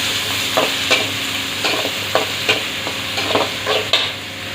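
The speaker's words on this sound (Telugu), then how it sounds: "ఉల్లిపాయలు వేసిన తర్వాత కొంచెం వేయించుకోవాలి" Finely chopped onions fry in a pan for a fish curry, giving a steady sizzle under repeated scraping stirs of the utensil. No voices are heard.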